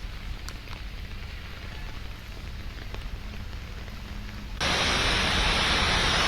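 Monsoon rain falls steadily as a dense, even hiss, growing abruptly louder and heavier partway through, with no voices.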